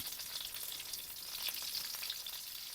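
Leftover rice frying in oil for sinangag gives off a soft, steady sizzle, an even bright crackle that holds without pause from start to finish.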